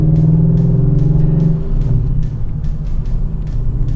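BMW E39 M5 cruising on the road, a loud steady engine drone and rumble heard from inside the car, easing slightly as the revs drop partway through.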